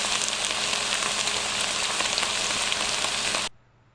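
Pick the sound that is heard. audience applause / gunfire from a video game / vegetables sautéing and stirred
vegetables sautéing and stirred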